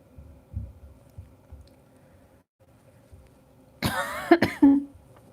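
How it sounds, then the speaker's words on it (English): A quiet low hum gives way to a sudden burst of loud, harsh coughing, two or three close coughs near the end. "Sorry for coughing, guys."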